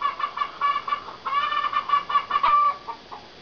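A hen clucks and squawks in a rapid run of close, fairly loud calls with short pauses between bursts.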